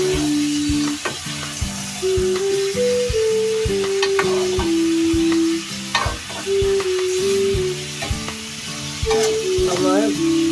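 Chicken pieces fry in a pan with a continuous crackling sizzle and intermittent stirring clatter, while a melodic tune plays steadily over it.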